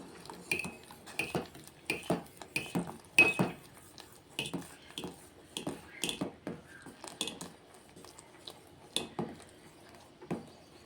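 Spoon stirring sorghum flour porridge in a metal pot, a rhythmic series of close scraping clinks, roughly two or three per second, steady and moderately faint, with no talking.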